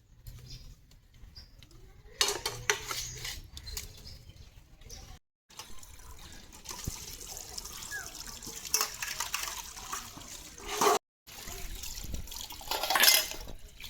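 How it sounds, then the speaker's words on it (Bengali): Many dishes, pots and utensils being washed with running water in a farmhouse kitchen, with continuous splashing and clattering, a couple of brief pauses, and occasional faint sounds in the background. "বাসনগুলো ধুয়ে তারপরে রান্নাবান্না রাখবো কিন্তু আজকে অনেক বাসন হয়ে গেছে"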